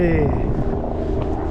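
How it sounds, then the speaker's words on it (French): A civil security helicopter passes over the Sainte-Baume massif on a cold day, its low rotor drone and throbbing engine hum filling the short stretch, loud and steady, with a voice heard faintly alongside. "L'hélico de la sécurité civile."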